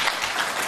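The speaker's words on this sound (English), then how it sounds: "Everybody get a round of applause for mom and dad here." A brief burst of dense applause from a crowd, loud and continuous for under a second.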